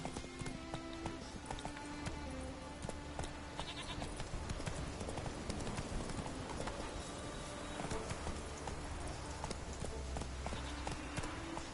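Rhythmic horse hooves clip-clop along in The Witcher video game, steady and moderately loud over a busy backdrop of ambient game sounds, with brief speech here and there.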